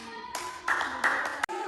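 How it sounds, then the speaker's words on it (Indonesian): Students in a grade 10 English class clap briefly, a few short bursts of applause fading quickly, with faint room noise underneath. "Oke, tepuk tangan teman-teman."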